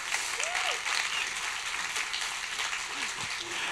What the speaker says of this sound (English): Everyone, round of applause for Nick Temple.